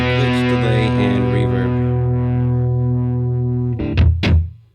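An OBNE Parting guitar pedal produces a sustained, distorted, heavily processed guitar tone with glitchy, delayed textures, then two sharp burst-like swells before the sound fades out.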